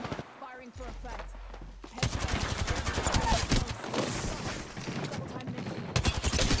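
Rapid automatic gunfire from the video game Apex Legends, loud, dense bursts of shots that swell after the first couple of seconds and keep rattling almost continuously, with a brief low rumble early on.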